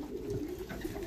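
Racing pigeons coo in a loft, a low, soft, continuous murmur of several birds, fairly faint and with no talk.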